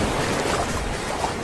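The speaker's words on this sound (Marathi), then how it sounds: "आता पावसाला जवळ येते त्यामुळे समुद्राच्या लाटा बघा मोठ्या मोठ्या होत चालल्या." Large sea waves rolling in ahead of the monsoon rains on a fishing coast, a steady broadband roar and wash of surf with no voices, continuous and fairly close throughout.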